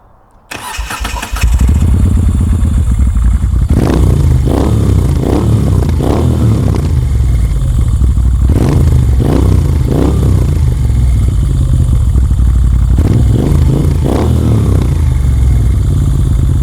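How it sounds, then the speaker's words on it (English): Moto Guzzi V7 II motorcycle with custom parts cranks and fires up, then idles with a loud, close exhaust broken by several sharp throttle blips that rev the engine and fall back. No one speaks. "this is what the exhaust sound like."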